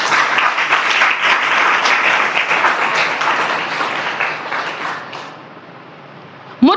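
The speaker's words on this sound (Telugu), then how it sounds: "చప్పట్లు కొట్టండి" A church congregation breaks into loud applause during a sermon, many hands clapping together for about five seconds before the clapping thins and fades out, followed by a brief sharp sound at the very end.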